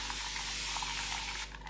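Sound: spraying damp hair with a spray bottle

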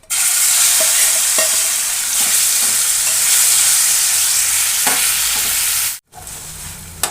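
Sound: ground spice paste frying in hot oil

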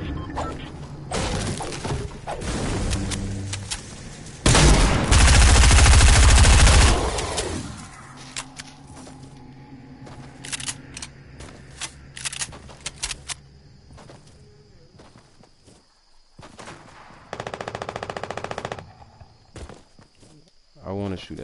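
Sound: gunfire in a PS4 video game

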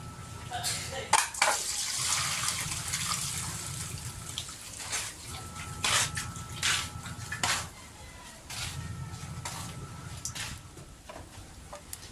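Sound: draining soaked rice noodles (pancit bihon)

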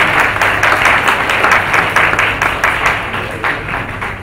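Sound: audience applause

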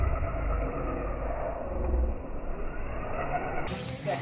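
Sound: RC drift car driving

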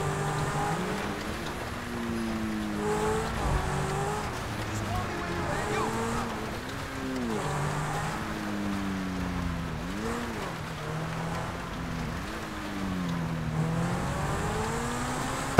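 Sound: customised sports car driving in video game GTA 5 Online

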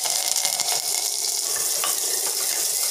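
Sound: onions and curry leaves sizzling in oil with mustard seeds

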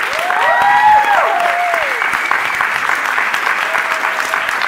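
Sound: audience applause

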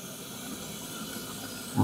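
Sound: Scarlett electric kettle water boiling

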